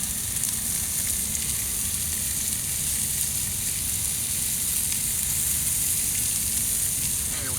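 Bacon sizzles in a pan while breakfast is cooked outdoors on a backpacking trip. A dense, even crackling hiss holds steady and close throughout, with no talking.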